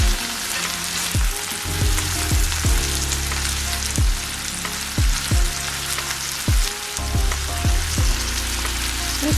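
Smoked sausage and chard frittata frying in a pan on a stovetop, a steady close crackling sizzle with a low electrical hum and repeated pops recurring throughout, no talk.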